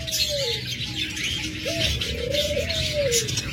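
A large flock of caged Java sparrows calls together at a bird seller's, bright chirps and tweets layered over a continuous chattering din, with a few longer, clearer whistled notes standing out close by.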